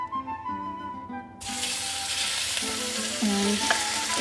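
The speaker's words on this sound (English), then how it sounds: "we're going to saute the meat until brown" Minced beef fillet hits hot vegetable oil in a frying pan and bursts into loud, steady sizzling that carries on without a break, after a brief quieter start with low hum.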